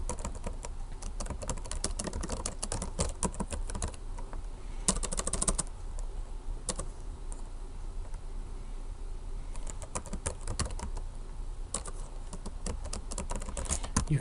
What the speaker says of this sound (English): You can type into here.